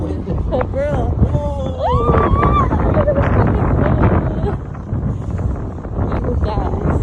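Cold wind buffeting a microphone outdoors in low rumbling gusts throughout, with excited voices of people talking and exclaiming over it.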